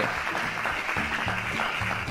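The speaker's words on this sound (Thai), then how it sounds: "อย่างเช่นเสียงปรบมือ" Applause sound effect from the Classtools classroom website, a short burst of many hands clapping that runs steadily and fairly loud for the whole two seconds.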